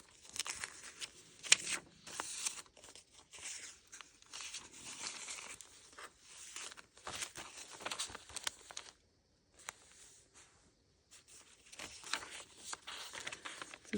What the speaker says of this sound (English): It's that nice onion skin sounding paper.